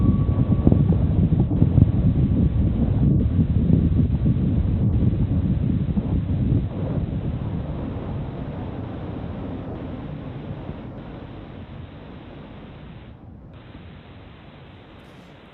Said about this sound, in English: Engines full power, and liftoff.